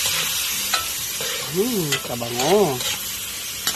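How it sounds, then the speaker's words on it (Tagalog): Pancit noodles with soy sauce are stirred and tossed in a frying pan, with steady sizzling and scraping close up under a voice speaking and humming briefly. "Ilagyan ko ng toyo. Ayan. Haluin lang po natin."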